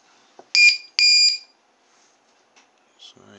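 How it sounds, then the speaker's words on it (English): A LiPo low voltage alarm on a 3-cell battery sounds two sharp, loud, high-pitched beeps in quick succession, followed by faint clicks and a brief voice. "this is a good LiPo alarm"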